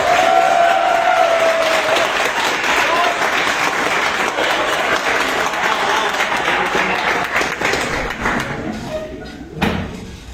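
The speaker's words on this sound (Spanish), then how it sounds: "Demos un fuerte aplauso al" An audience applauds at an engineering lecture on nanotechnology, a full round of clapping that gradually thins and fades, with a thump and a brief voice near the end.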